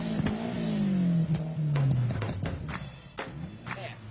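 An Emme Lotus 422 with a Lotus engine of over 260 horsepower accelerates close by, its loud, sustained engine drone sliding in pitch, with some mechanical clatter.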